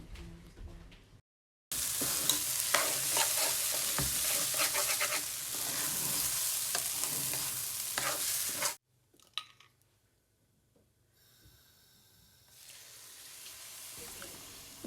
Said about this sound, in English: roast rice before adding milk. Added couple of green chilies.